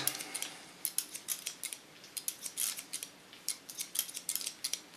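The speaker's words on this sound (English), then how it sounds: "thin them out again with the tip of my scissor" Scissors snip and thin hair during a salon haircut, working behind the ear with the blade tips; rapid, close, crisp clicks in irregular bursts, no talking.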